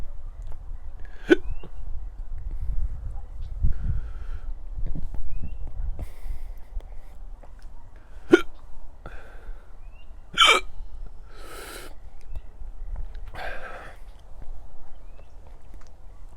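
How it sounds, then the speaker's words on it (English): Hiccups from a person tasting a hot pepper, a few sharp isolated jolts spaced several seconds apart over a low background rumble, close and fairly loud. "Hiccups."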